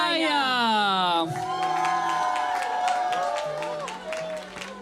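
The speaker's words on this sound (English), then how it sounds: "Big round of applause for" A crowd at the Just Love Festival 2024 erupts in cheering, whoops and clapping after a sustained amplified tone cuts off, voices rising and falling in loud overlapping shouts with scattered claps underneath.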